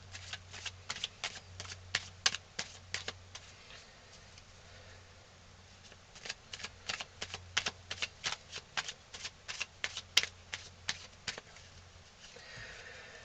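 Tarot cards being shuffled during a reading, heard as rapid runs of crisp riffling snaps in two bursts with a short pause between, fairly close and alone, over a faint low hum.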